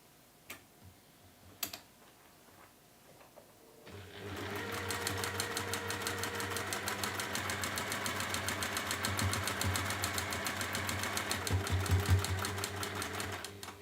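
A sewing machine stitches a quilt seam, its rapid even needle rattle starting after a few seconds of quiet with faint taps, then running steadily and close for the rest of the clip.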